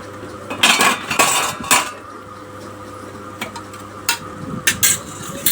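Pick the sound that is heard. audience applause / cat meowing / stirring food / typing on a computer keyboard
stirring food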